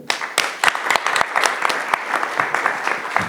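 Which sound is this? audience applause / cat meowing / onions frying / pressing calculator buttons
audience applause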